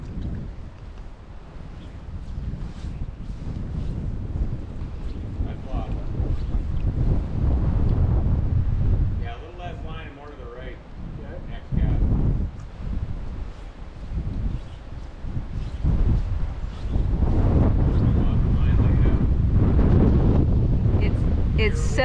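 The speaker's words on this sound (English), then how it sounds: "Such a crap wind." Strong wind sweeps over a river during dry fly fishing for trout in Patagonia, a loud, rushing roar with heavy gusts buffeting the microphone, rising and falling throughout the clip.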